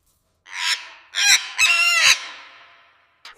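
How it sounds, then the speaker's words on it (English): A loud farm bird, likely a rooster or goose, lets out three harsh, honking calls in quick succession at close range, then falls silent apart from a brief final sound. "Noisy bird."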